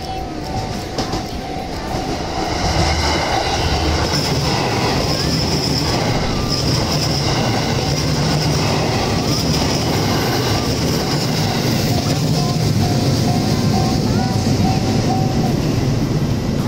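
A train on the Umeda freight line in Osaka rumbles steadily past a level crossing at close range, wheels clattering on the rails, with a faint high crossing bell underneath.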